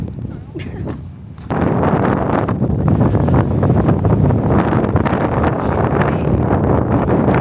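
Strong wind buffets the microphone in a steady, loud roar on Calton Hill, Edinburgh, briefly quieter at first before gusting up and holding.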